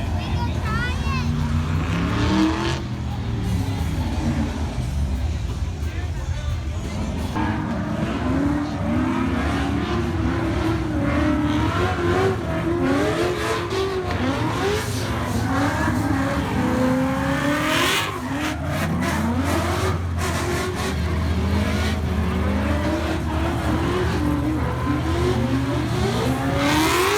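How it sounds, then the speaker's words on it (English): Two Ford Mustang race cars run door-to-door at an NMRA event at Bowling Green, their engines droning and shifting pitch at a moderate distance, with people talking over the noise. "Facing the two Mustangs that are doing some door-to-door driving."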